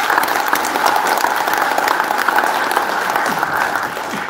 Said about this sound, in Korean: 국민의힘 서범수 사무총장께 다시 한번 큰 박수를 보내주시기 바랍니다